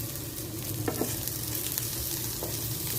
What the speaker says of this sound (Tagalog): sa kabila naman natin halo-haloin ang okra